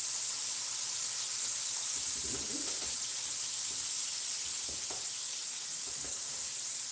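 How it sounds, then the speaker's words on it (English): Bacon frying in a pan sizzles as a steady high hiss throughout, with a few soft low bumps and faint background noises underneath. "Just flipping the bacon here."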